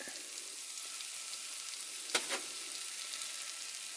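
Beef fajita meat sizzles steadily in a pan with peppers, onions and garlic at a camp stove in a truck camper, a continuous close frying hiss with one brief clatter partway through.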